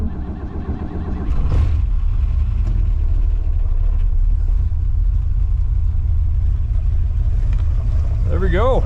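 A 1964 Oldsmobile 98 engine after carburetor priming: a brief cranking burst, then the motor catches and settles into a loud, steady rumbling run with no talk over it.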